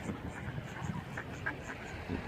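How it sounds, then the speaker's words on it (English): Ducks quacking among geese and seagulls on a lake where people feed the wildlife, with a few faint quacks at a moderate distance over soft outdoor ambience. "Got plenty of ducks here, geese, seagulls,"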